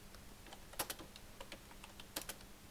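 Soft, irregular keystrokes tap on a computer keyboard while text is entered in MS Word, with a couple of louder clacks, quiet and close in an otherwise silent room.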